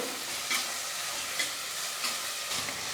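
Garlic, dried chilies, onion and curry leaves sautéing in hot oil, a loud close dense sizzle with rhythmic stirring swishes about every half second.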